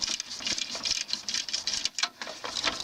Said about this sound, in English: Next, loosen the lock nut, which is also holds the pulley on,